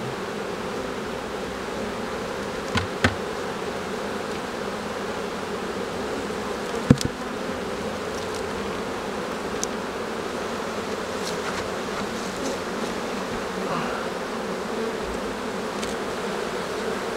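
A honeybee colony buzzes in an open beehive during an inspection: a dense, continuous drone that holds steady throughout, close and fairly loud, with a few faint clicks from handling the hive.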